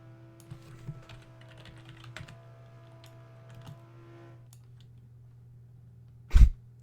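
Light, irregular keyboard tapping in a quiet room over a low steady hum, with a louder thump near the end.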